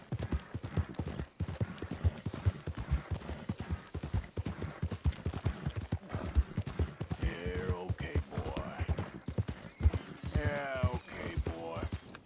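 In the video game Red Dead Redemption 2, a horse's hooves clip-clop in a steady walking rhythm, with a brief snort or whinny partway through.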